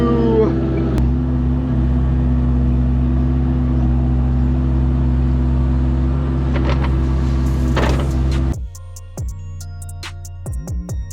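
A small tractor digging a hole for a backyard pond, its engine droning loud and steady with a heavy low hum, then cutting back abruptly near the end to scattered clanks and rattles.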